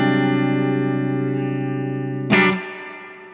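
A sustained electric guitar chord from a Telecaster rings through a spring reverb unit, then a sudden splashy crash near the end as the spring reverb rattles and decays.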